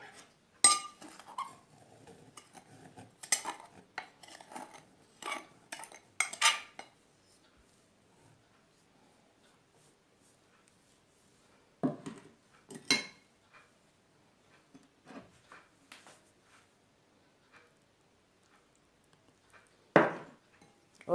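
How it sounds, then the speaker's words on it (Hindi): A spoon stirs sugar and oil together in a bowl, tapping and clinking against the sides in bursts, with long quiet gaps and a few louder knocks. "अब हम एक बाउल लेंगे, इसके अंदर हम शुगर और ऑयल को मिक्स करेंगे।"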